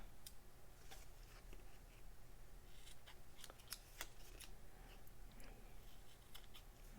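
Scissors trim the end of a paper card, producing a few faint, sharp snipping clicks against a quiet room background.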